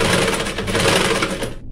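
Sewing machine stitching a blouse seam, a fast close mechanical whirring chatter running continuously before stopping abruptly.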